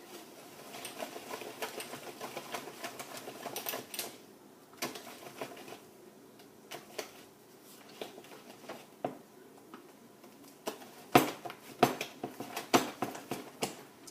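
Crêpe batter ingredients are stirred in a bowl, with irregular clinks and scrapes of a utensil against the bowl, some sharper taps, fairly close and with no talking.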